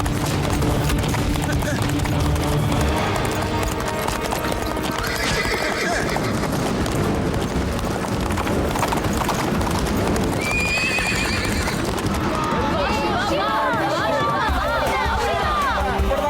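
A horse gallops with rapid clip-clop hoofbeats and repeated loud neighs, a crowd and shouting voices mixed in among background music throughout.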